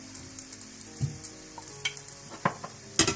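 Aloo paratha frying in butter in a pan, a soft steady sizzle with small pops and crackles, close and fairly quiet.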